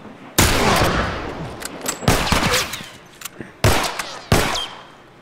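Gunfire in The Last of Us video game: four loud, sharp blasts spaced about a second apart, each followed by a ringing decay, close and unaccompanied by talk.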